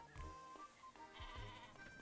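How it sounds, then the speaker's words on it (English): Sheep in the farming video game Discounty bleating several times in quick succession, wavering calls over a quiet musical backdrop, faint overall. "I can hear a sheep."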